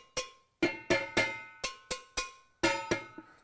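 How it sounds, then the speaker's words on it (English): Various-sized containers salvaged from the trash are struck as drums, giving a series of sharp, hollow, ringing hits in an uneven rhythm, each note different in pitch, close and without talking. "Different size containers make different noise."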